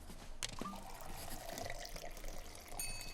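Gin pours into a glass in a short, faint, steady trickle with a few small splashes, close by and quiet, with no one speaking.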